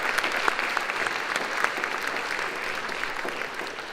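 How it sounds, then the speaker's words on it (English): A congregation applauds warmly for several seconds, a dense, even patter of many hands clapping in a room, steady and moderately loud throughout. "I think we could give him a round of applause for that"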